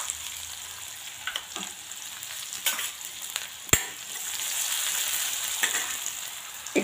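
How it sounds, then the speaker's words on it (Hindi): Chopped onion and ginger-garlic paste frying in oil in a pan, a steady close hiss of sizzling with occasional spatters and the scrape of stirring, moderately quiet and with no voices. "प्याज और टमाटर हम पका रहे हैं, ज़्यादा नहीं पकाने हैं"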